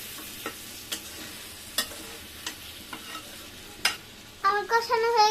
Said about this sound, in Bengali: এখন আমি ভালো করে কষাই দিব।